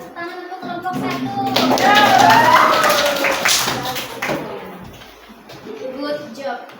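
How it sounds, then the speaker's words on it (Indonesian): Schoolchildren in a classroom applaud for a presenting group, a burst of clapping that swells and then fades, mixed with children's voices and chatter. "Kita berikan dulu tepuk tangan untuk kelompok 1."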